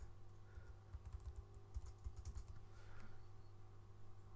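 Computer keyboard typing in quick bursts of soft clicks, faint and close, over a low hum, with no voices.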